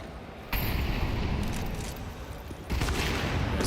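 Rapid AK rifle fire and a grenade blast from a Counter-Strike match, a dense continuous crackle of shots that swells louder partway through, with no voices.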